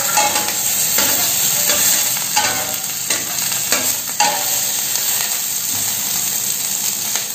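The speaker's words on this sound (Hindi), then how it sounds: "धीमी आंच पर इसे फ्राई करें जब तक गोल्डन ब्राउन तक कलर ना हो जाए।" Three garlic cloves fry over low heat for a coconut-peanut chutney while being stirred, a steady hiss of oil with repeated scraping strokes of a spoon against the pan.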